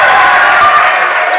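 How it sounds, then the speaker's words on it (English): A crowd cheering at a high school boys basketball game, Niles North Vikings against Glenbrook South Titans, in a gym. A loud, sustained roar rises briefly and fades near the end. "Crowd getting into it here."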